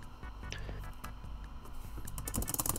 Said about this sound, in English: You can hear the intense clicking of my spacebar